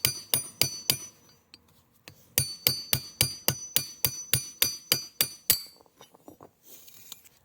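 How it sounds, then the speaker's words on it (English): Steel chisel struck repeatedly with a hammer against rock in a mineral hardness test: a fast, even run of sharp metallic clinks, a brief pause, then a second longer series of ringing blows, all close and loud with no talking. "Now I'm going to go ahead and take this chisel, set it on the rock, and just start hammering away."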